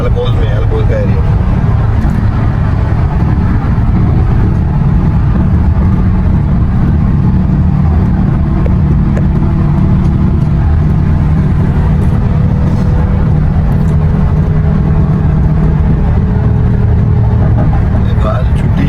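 Steady road traffic on Al Khail Road in Dubai, a continuous loud rumble of car and bus engines passing without a break.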